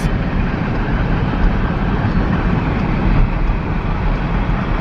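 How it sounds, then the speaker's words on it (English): A passing train gives a continuous, loud, broadband rumble close by, steady throughout with no voices. "So the train's right there."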